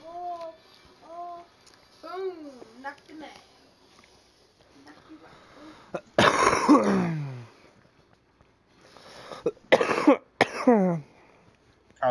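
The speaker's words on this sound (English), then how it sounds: "Cough, cough." Several sharp coughs burst out during a Fortnite session among chatter and kids' voices, one strong cough followed a few seconds later by a cluster of shorter ones, close and loud.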